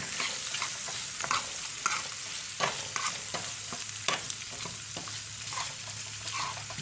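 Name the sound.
stirring lemon butter shrimp pasta sauce in pan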